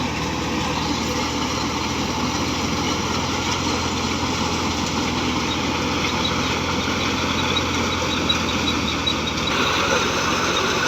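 A Massey 240 tractor engine runs steadily during mustard threshing, making a continuous even drone that holds at one level throughout with no revving or pauses.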